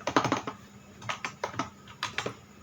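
Keys clatter on a computer keyboard as a chmod command is typed, quiet close clicks in short bursts with brief pauses between them.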